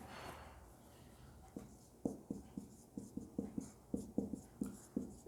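Chalk or marker strokes tapping and scraping on a board in a lecture, a quick irregular series of short, close knocks, with no talking during them.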